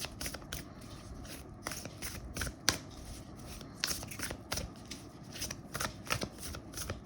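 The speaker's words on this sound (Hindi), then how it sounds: "एक बार और शफल करते हैं फिर हम निकालेंगे।" A deck of tarot cards is shuffled by hand in repeated quick riffles and crisp slaps, close and clear, with short pauses between bursts and no talking.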